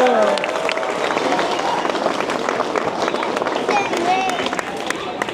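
An audience at a Diwali festival in Amstelveen applauds, dense clapping with crowd voices and cheers mixed in, holding steady and loud the whole time.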